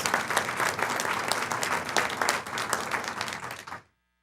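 A studio audience at a Veterans Day program applauds military veterans, a dense sustained clapping that fills the room loudly for nearly four seconds before stopping abruptly.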